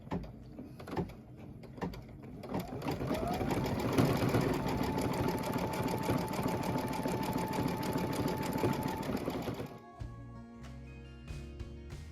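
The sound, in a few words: embroidery machine stitching satin line on red pieces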